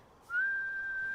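A single clear, steady whistle rises and holds for about a second, used to tame the cosmet in the game Flock, loud and close over quiet background.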